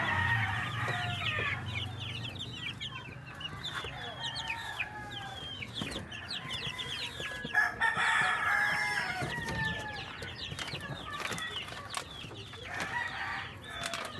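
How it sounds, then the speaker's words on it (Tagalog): A Rhode Island Red rooster crows in a backyard flock with native hens, its calls mixed with steady clucking and chatter from the birds at moderate distance, continuing throughout. "Ito yung tandang ko guys, Rhode Island red"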